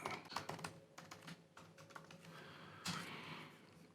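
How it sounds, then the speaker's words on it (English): Quick, irregular keystrokes clatter on a computer keyboard as a username and password are entered, very quiet and close, with a louder key press near the end. "I'll type in my password and username"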